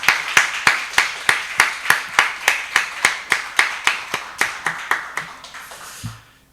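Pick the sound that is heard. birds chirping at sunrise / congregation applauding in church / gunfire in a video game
congregation applauding in church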